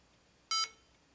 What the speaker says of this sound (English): Maybe just an error beep.